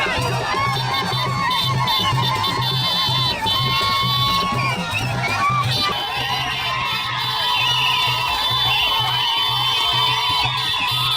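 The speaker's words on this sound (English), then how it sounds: "These were part of the cheering crowds which had pinched up at Kafu Bridge to receive the newly appointed State Minister" A large crowd at Kafu Bridge cheers, whoops and shouts continuously to welcome a newly appointed state minister, with rhythmic drumming pulsing underneath and voices calling over the dense, lively din.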